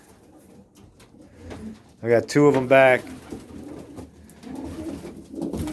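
White doves coo close by in a brief, throaty burst, with someone talking just before and after.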